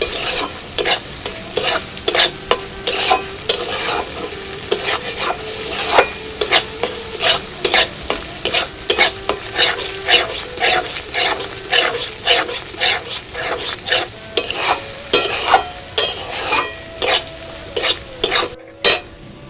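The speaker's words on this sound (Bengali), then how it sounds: "মশলাটা খুব ভালো করে কষানো হয়ে গেছে" Spice masala for paneer malai curry is stir-fried in a pan: loud rhythmic scraping and clattering strokes repeat steadily over a continuous sizzle, close and busy throughout.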